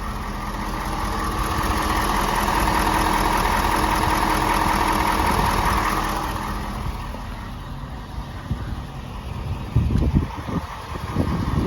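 A Ford F-250 XLT with a 6.7L diesel idles steadily up close with a loud, even rumble, and the sound thins toward the end as a few irregular knocks and handling noises come through.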